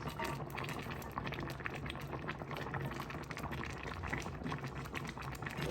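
Herbal medicinal soup boiling in a pot, a constant close bubbling and gurgling simmer at low volume, steady throughout with no voices.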